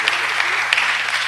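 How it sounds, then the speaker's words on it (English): Audience at a public city meeting giving brief, loud, sustained applause, with a low steady hum beneath the clapping. "Give a big round of applause"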